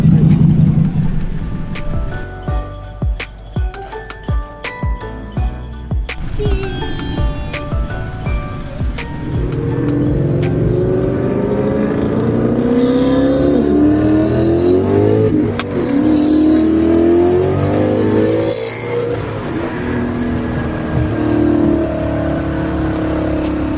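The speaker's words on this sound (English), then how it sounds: "I missed the downshifts of this M3" A BMW M3 engine blips and drops through gears as it passes close by, revs rising and falling in loud bursts, with voices faintly underneath.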